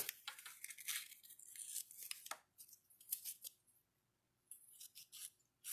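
Tape on a copper sheet being trimmed with scissors, a series of faint crisp snips and scratchy cuts in bursts, close by with short quiet pauses between.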